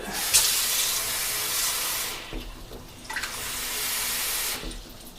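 Water running from a kitchen tap to mix with cornstarch, a steady broad hiss that cuts off and restarts in short bursts, with no talking.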